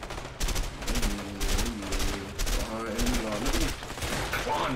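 Gunfire in a shootout in the video game Army of Two comes in repeated rapid bursts, loud and close, with voices talking over the shooting.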